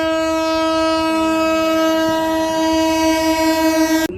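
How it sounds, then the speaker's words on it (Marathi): A loud, sustained train horn blares steadily as a superfast train rushes past close by at high speed near Talni station, cutting off abruptly at the end. "ट्रेन काय स्पीडमध्ये गेली एवढी भयंकर स्पीडमध्ये गेली"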